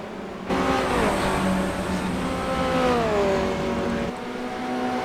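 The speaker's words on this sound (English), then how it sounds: "there's still a lot of racing going on here, as we can see the cars streaming across the line here" Formula Renault race cars in iRacing at Suzuka stream across the finish line, several engines droning and shifting pitch as they pass, a steady loud roar throughout.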